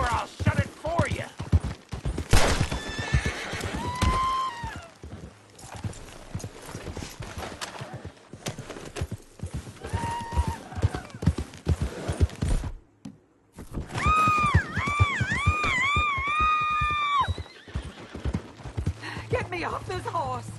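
Horse hooves clip-clopping and a horse whinnying in the open-world western game Red Dead Redemption 2, steady hoofbeats with a neigh, mixed with shouting voices and music.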